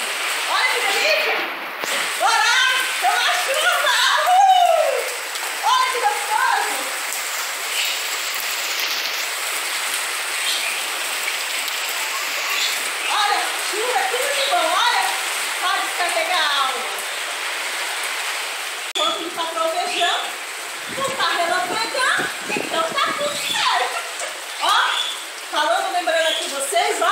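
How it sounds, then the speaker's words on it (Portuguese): Steady rain patters on a vegetable garden with a lemon tree, a constant wash of drops heard throughout while a person talks over it nearly the whole time. "Deus já mandou a chuva, ó, que delícia"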